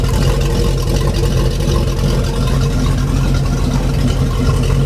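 Mercruiser 5.0 marine V8 engine running on a pallet, a loud, close, steady idle with a throbbing exhaust rumble and no talking.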